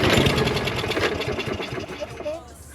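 A small lawn mower engine with a bad exhaust runs unevenly, loud and close, its rough, pulsing chug fading and sputtering toward the end as it struggles to keep idling.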